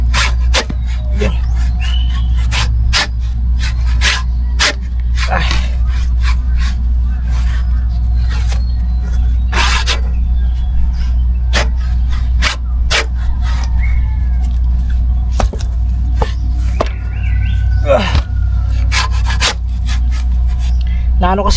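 A handsaw cuts through wood in a series of sharp, rasping strokes at an uneven rhythm, loud and close over a constant low hum, with occasional voices in the background.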